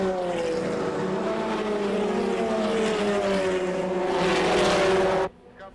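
Race cars compete at the 1990 SCCA National Championship: a loud engine drones near with a rising, shifting pitch as a car passes, then cuts off abruptly into quieter background.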